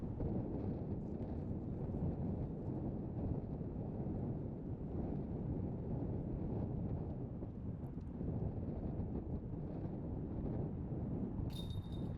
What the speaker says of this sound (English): It'll be the hardest wind that the players have seen all weekend.